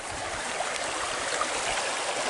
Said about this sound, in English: And look at this little creek.